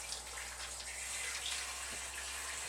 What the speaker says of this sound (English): go ahead and wash your hands with soap after touching raw eggs